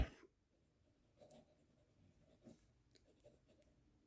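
Handwriting with a Bayard Excelsior 552 fountain pen with a steel nib, a faint, close, scratchy rustle of the nib moving across paper in short irregular strokes.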